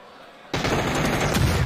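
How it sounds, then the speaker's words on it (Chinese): Rapid automatic gunfire erupts suddenly in a PUBG esports match on the Erangel map, loud and dense after a short quiet lead-in. "另一边许生出枪，将阿童木也是反打掉"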